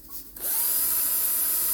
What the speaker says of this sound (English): You'll drill into it a lot easier than you would metal